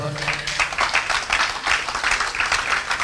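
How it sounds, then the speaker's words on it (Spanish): A church congregation claps in praise to the Lord during a sermon, a short, uneven burst of hands clapping in a pulsing rhythm, fairly close, with murmured voices under it. "dale palmas al Señor"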